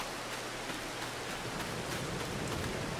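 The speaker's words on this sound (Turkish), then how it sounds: "Burada yağmur sesini yok etmek benim amacım." Rain in the Farming Simulator 22 video game is a steady, even hiss of falling water with no breaks, fairly faint and uniform throughout, with no voices over it.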